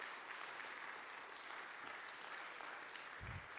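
An audience applauds steadily as performers leave the stage at a church service, a dense even roar of clapping with no voices over it.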